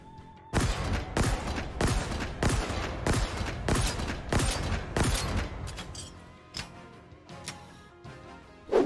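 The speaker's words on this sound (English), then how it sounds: "This gun is essentially the game's hand cannon with a projectile drop" A hand cannon fires in Halo Infinite, with about nine sharp, loud shots in a rapid, even rhythm followed by fainter scattered clicks and impacts, and no talk over them.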